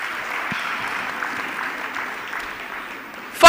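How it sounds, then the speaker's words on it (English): Applause from a seated audience at a hotel summit session, a steady even patter of many hands clapping at moderate distance for several seconds, ending with a louder burst close by. "please let's give EKO Hotel another round of applause"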